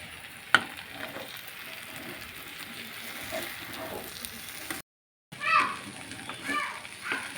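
Boiled potatoes frying in a pan, a steady soft sizzle with a few sharp clinks and a brief dropout, faint voices in the background.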